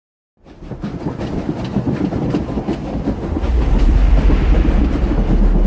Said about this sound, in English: Intel says they're on an Umbaran supply train headed for the capital city.